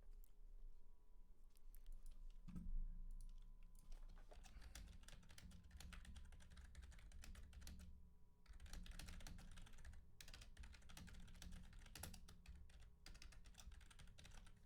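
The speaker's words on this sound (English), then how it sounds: "I hear very private typing sounds." Computer keyboard typing goes on in quick, irregular bursts of soft clicking keystrokes, picked up close but quiet, with short pauses between flurries and no one talking.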